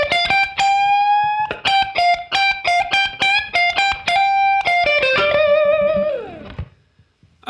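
Electric guitar playing a slow blues lick: a close, loud run of picked and bent notes with distorted tone, ending in a sliding bend that fades to silence.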